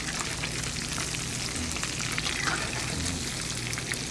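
Shrimp tempura frying in hot oil, a dense continuous sizzle with crackling bubbles, close and fairly loud, steady throughout without talk.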